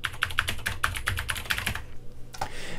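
Rapid, uneven keystrokes on a computer keyboard, typed into a web form input field, clicking close and distinct for about two seconds before stopping, with one last faint tap after a brief pause.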